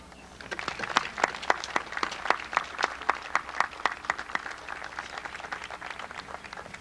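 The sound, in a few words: audience applause at graduation ceremony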